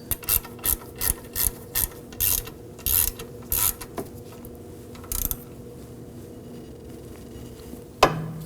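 Ratchet wrench snugging a rear wheel hub assembly bolt on a 2001-2009 Volvo S60 2.5L, about a dozen quick bursts of clicking strokes, close and clear, then a pause and a single sharp metallic clank at the end.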